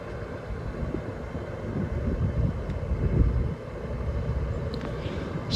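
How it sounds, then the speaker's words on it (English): A John Deere 6120M four-cylinder tractor pulls a Lemken plough across a field, giving a steady, close, low engine drone with wind buffeting the microphone. "we're using a John Deere 6120M 4-cylinder John Deere tractor"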